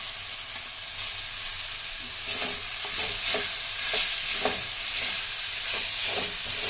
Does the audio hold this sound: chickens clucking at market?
no